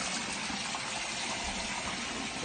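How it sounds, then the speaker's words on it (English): Water rushes steadily and loudly through pipework as a toilet is flushed during the unblocking of a fatberg of wet wipes and cooking grease, a continuous gushing roar with no pauses. "Flush your toilet."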